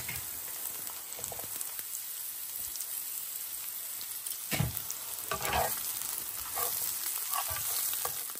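Small chopped eggplant pieces sizzle and fry with browned garlic in a pan. A steady close hiss carries a few louder crackles and stirring scrapes.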